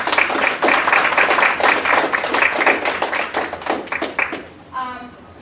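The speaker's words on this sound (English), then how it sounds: "Let's give him another round of applause" An audience at a student leadership workshop claps for a presenter, brisk close handclaps in a loose rhythm for about four seconds, then fading out as a voice begins to speak.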